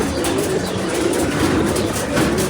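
Pigeons, including Tal pigeons, come in to land and settle after a competition flight, with a dense, loud wash of fluttering and shuffling sounds close by throughout.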